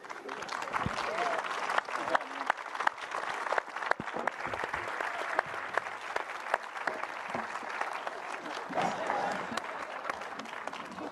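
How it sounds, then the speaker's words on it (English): Sustained audience applause at a NASA spacesuit unveiling for the Artemis III moon mission, dense steady clapping filling the room with a few louder claps and faint voices mixed in. "Let's do another round of applause for everyone."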